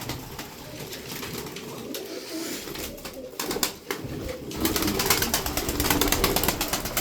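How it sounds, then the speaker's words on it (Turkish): Tumbler pigeons coo softly in a loft amid rustling and scattered wing flutters, the murmuring steady and close with faint background noise. "Bakın oyunlu bu kuş."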